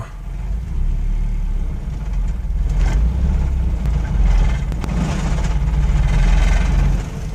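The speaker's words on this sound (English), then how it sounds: "this is just idling along now." A heavy truck engine idles with a deep, steady rumble, close and loud, its low throb continuing without change.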